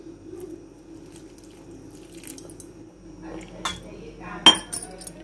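A spoon clinks against a container while hibiscus flower powder is stirred into water, giving a few scattered light taps and then a sharper metallic clink near the end, with a person talking in Hindi at times.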